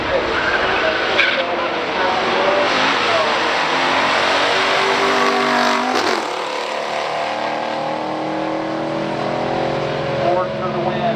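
A 1969 Camaro SS396 and a 1970 Ford Torino Super Cobra Jet, both stock, in the final round of a drag race: loud, sustained engine roar with rising rev tones, a brief sharp burst near the middle, under a commentator's voice.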